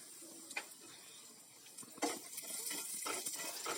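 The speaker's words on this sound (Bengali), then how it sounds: "এবার আমি গরম তেলের মধ্যে দিয়ে দিচ্ছি কালো জিরে" Nigella seeds hit hot oil in a pan while fish is being fried for a light small-fish curry, giving soft crackles and brief spits over a quiet sizzle, faint and close.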